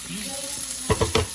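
Garlic dropping into a hot pan with browning meat in a home kitchen, a soft ongoing sizzle followed by a few quick bursts of louder crackling and spattering, close by.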